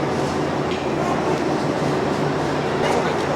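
A Nilsagar Express train rumbles in a loud, steady roar, heard from inside the carriage as it pulls out of a station, with faint chatter mixed into the constant noise.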